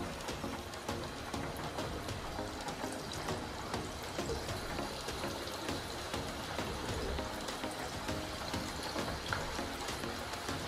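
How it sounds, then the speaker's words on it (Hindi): Steady, dense crackling and sizzling of potato fritters (aloo pakode) frying in hot oil over a high flame, continuous and fairly loud throughout with no voices. "अब चलिए इसमें एक एक करके हम आलू का पकोड़ा तेल में छोड़ देते हैं।"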